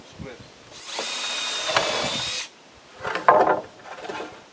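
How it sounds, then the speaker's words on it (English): A power drill bores a couple of pilot holes near the end of a deck board: a loud, steady whine of about a second and a half, then a second, shorter burst after a pause. "what I'm going to do is just drill a couple of pilot holes on the end here to set this board"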